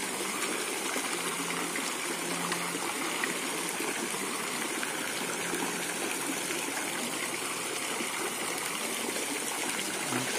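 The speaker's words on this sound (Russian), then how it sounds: "Фонтан работает, кстати." Street fountain in a town in October: a steady, moderately distant rush and splash of running water, continuous and even throughout, with faint background murmur and no clear talk.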